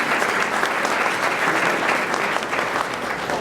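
Sustained applause from a chamber of commerce luncheon audience, a dense, even wash of many hands clapping steadily throughout without letting up.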